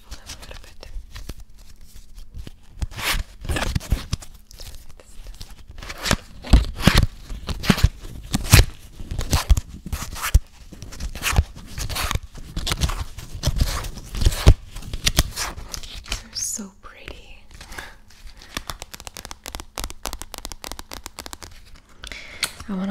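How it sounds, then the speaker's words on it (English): Board game cards shuffled by hand in quiet ASMR-style close-up, repeated crisp riffling bursts and soft slides with brief pauses between, near and clear. "so I'm just going to shuffle."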